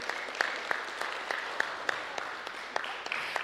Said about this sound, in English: So I would like us to all give a big round of applause to our DYA team